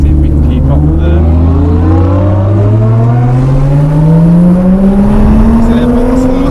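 Engine of a car driven fast on a track alongside supercars, a loud steady drone whose pitch climbs smoothly through the gears as it accelerates, with continuous road and wind roar close up.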